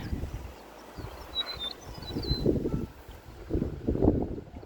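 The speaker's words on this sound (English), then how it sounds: "So the wind is actually coming out of the south right now." Wind from the south blows outdoors where new apple trees are being planted, making low, gusty rumbles against the microphone that swell and fade, with a faint bird chirp early on.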